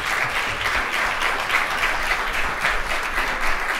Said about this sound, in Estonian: Teeme aplausi Hardile